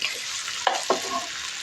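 Rice for beef biryani is stirred and fried in a pan, giving a close, steady sizzle broken by a couple of sharp scraping strokes of the spoon.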